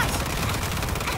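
Rapid gunfire rattles in a dense, continuous burst during a World War Z zombie shooter match in a New York tunnel, loud and close with no pause.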